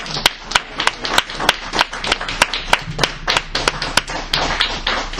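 A church congregation claps in a quick, steady rhythm during a prophetic night service, loud and close, with no speech over it.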